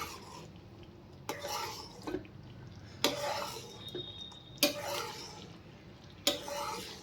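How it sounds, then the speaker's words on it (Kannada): Kesari bath, a semolina sweet, is stirred in a pan, with intermittent scraping and clinking of a spoon against metal over a soft background, close and moderately quiet. "ಸೊ ಇದೊಂದು ಥಿಕ್ ಕನ್ಸಿಸ್ಟೆನ್ಸಿ ಬರೋವರೆಗೆ ಹೀಗೆ ಸ್ಟಿರ್ ಮಾಡ್ಕೊಳ್ತಾ ಇರಿ"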